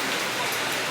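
Steady rain falling outdoors near a porch, a dense continuous hiss of drops with no pauses, fairly loud and close.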